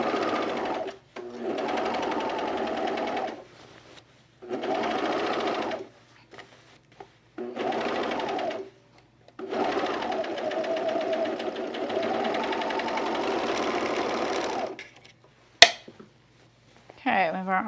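Sewing machine stitching a men's utility jacket runs in a string of bursts of rapid, buzzing whir, short stops between them and one long run near the end, with a person talking at times.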